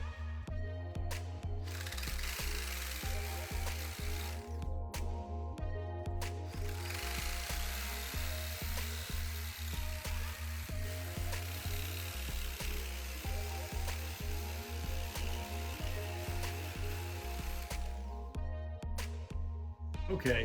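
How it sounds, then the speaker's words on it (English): Power tool driving out three screws from a cover on a stump grinder PTO driveshaft setup, a steady whirring buzz broken into repeated short bursts with brief pauses between them, close and fairly loud. "So take the 3 screws off and take the cover off."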